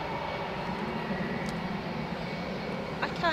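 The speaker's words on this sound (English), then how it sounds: "Ah, WestJet's on the move." A WestJet airliner taxis at Edinburgh Airport, its engines giving a steady, moderately distant rumble and whine that holds evenly throughout.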